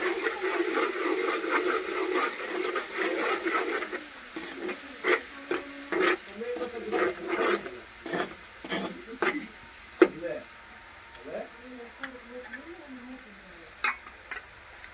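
Garlic sizzling in a pan, with steady frying hiss early, then repeated scraping and clinking stirring strokes at close range, the sizzle easing off as the heat is lowered.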